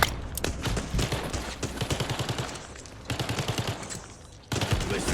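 Rapid automatic gunfire in Warzone Resurgence, a Call of Duty battle royale game, crackles in dense bursts for several seconds, close and loud, with brief pauses between volleys and a heavy renewed burst near the end.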